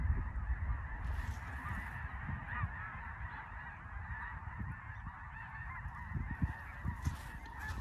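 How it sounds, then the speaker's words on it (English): A large flock of wild snow geese in East Texas, flushed by gunshots, honks continuously in a dense, overlapping chorus, steady and moderately distant, with no voices. "These are all wild geese that I scared up shooting those shots. Snow geese in East Texas."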